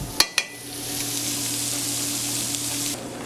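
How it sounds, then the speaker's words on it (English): Diced ham browning in a hot pan gives a steady close sizzle with a couple of sharp utensil clicks near the start, frying on evenly throughout. "melt the fat off all this ham and brown it up just a little bit"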